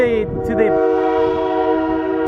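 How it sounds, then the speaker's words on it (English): A train sounds its loud, sustained multi-tone horn close by in Cuyahoga Valley National Park, holding steady for over two seconds, with a voice briefly heard at the start. "There's actually a train moving along in here."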